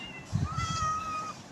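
In a Minecraft-style video game, a cat gives a single clear, drawn-out meow near the microphone against a quiet background.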